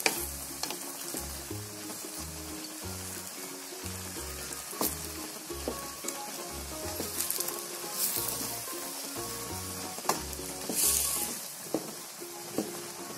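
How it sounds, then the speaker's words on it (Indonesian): Fish and spices frying in a pan for Acehnese sour-spicy fish, a steady sizzle with scraping stirring strokes and faint clinks, close and continuous under low background music. "Kita aduk."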